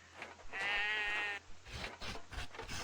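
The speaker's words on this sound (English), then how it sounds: "he's busy freeing the little sheep" A sheep in the video game Trine 3 gives one clear, wavering bleat lasting under a second, followed by softer game sounds and rustling.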